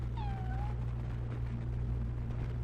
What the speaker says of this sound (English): What was that? Is that a cat?